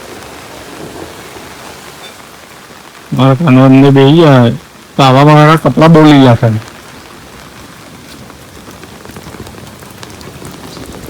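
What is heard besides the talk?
heavy rain with thunder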